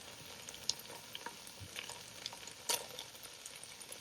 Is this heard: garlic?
yes